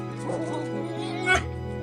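Dogs whimpering and yipping close by in short, high, whiny cries, with a louder yip near the end over a steady background hum.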